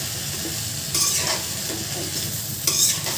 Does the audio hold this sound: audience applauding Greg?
no